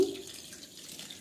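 Whey strains off freshly made chhena for rasgulla, a short soft trickle and splash of water running steadily close by.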